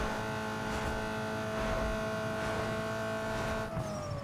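A Ford Focus 2.0L I4 drag car in Need For Speed Underground 2 accelerates hard, its engine whining in a steady, rising drone with a shift near the end, loud and continuous.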